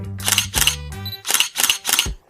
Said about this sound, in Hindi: अलमारे के अंदर कैमरा ऑन होकर उनका फोटोज खींचा